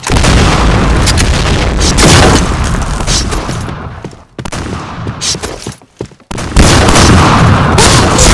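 Grenade blasts in the video game Point Blank, several loud booming explosions going off one after another with short quiet gaps between them, punctuated by gunfire bursts.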